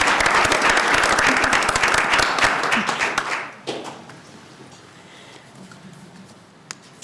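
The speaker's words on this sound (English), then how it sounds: "another round of applause for her" A school board meeting audience claps in loud, dense applause for about three and a half seconds, then it stops abruptly, leaving a quiet room with a few scattered sounds.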